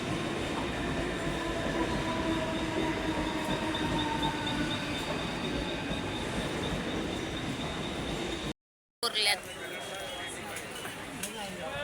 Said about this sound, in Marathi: स्टेशनला ट्रेन आले बघा